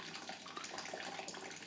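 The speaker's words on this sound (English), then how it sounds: "hope you can hear me over that trickling of water there" Hot wort trickles steadily into a vessel on a home brew day while a pale ale is run off, a soft continuous splashing water sound with no talk.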